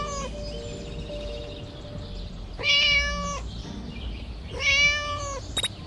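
A cat in the video game Scary Teacher 3D gives two drawn-out meows a couple of seconds apart over a quiet, humming game backdrop.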